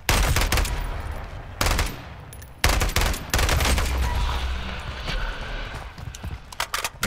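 Gunfire in the Modern Warfare 3 Zombies video game: loud bursts of rapid shots in several clusters, separated by short pauses, with no talk over them.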